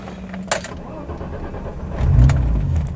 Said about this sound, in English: All right, starting up my car here.